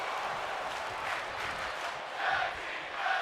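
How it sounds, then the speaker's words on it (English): Wrestling crowd in WWE 2K24 chanting during a tag team match, a steady dense roar of many voices with rhythmic swells near the end. "tag team wrestling chants in the crowd here tonight"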